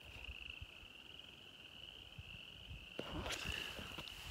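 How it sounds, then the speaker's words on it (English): A faint, distant chorus of frogs croaks at night on a homestead by a creek, making a steady shrill trill over low background hiss, with a few soft rustles near the end. "Can you hear those frogs?"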